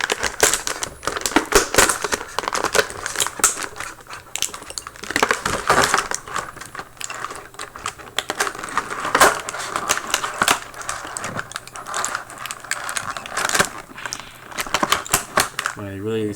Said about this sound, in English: let's get Chief Thunderbird out of this packaging